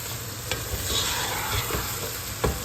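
A pot of meat and okra curry sizzles steadily while a spoon stirs it, scraping at intervals, with a few sharper knocks against the pot near the end.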